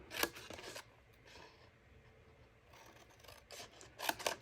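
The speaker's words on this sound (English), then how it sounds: "We're going to cut up to the second score mark" Scissors cutting paper for a gift box, a few short crisp snips in close bursts separated by quieter gaps.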